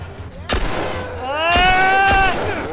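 Gunfire in The Last of Us Part II, three loud, sharp shots spaced about a second apart, each followed by a ringing, whining tail.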